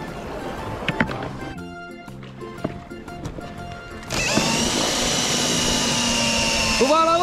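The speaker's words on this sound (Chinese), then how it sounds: "这个方便啊， 小船开开去大船那边。" Small motorboat engine starts roaring partway through, a loud steady drone with a rising whine near the end, following clattering noises and people talking on the water.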